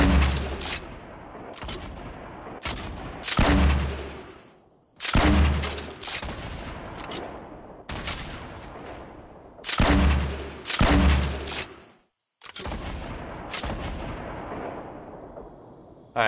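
Heavy single gunshots from a PC shooter game ring out one after another at irregular intervals, each a loud close blast with a long decaying echo trailing into quiet gaps.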